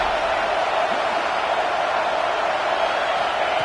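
A stadium crowd in a college football video game roars in a dense, continuous wall of cheering noise, steady and loud with no distinct voices.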